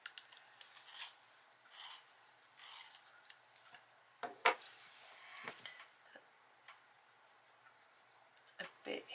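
An Oxford grey colored pencil being sharpened: quiet, intermittent rasping scrapes in short bursts with pauses between them.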